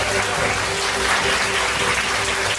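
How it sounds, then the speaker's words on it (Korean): Applause from an audience at a building opening ceremony session as a presenter is welcomed to the stage, a steady broadband wash of clapping held at even level throughout with no voices standing out. "여러분, 박정렬님을 큰 박수로 맞이해 주시기 바랍니다."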